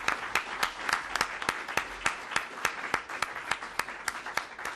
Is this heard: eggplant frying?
no